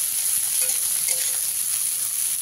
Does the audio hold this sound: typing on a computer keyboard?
no